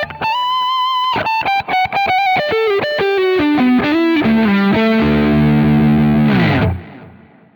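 A Schecter AM6 electric guitar on its neck pickup plays a distorted lead line, quick picked notes stepping downward into a long sustained held chord that cuts off near the end, loud and close with no talk.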